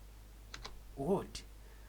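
A few close keystrokes on a computer keyboard, sharp separate clicks in an uneven rhythm, with a brief spoken sound in between.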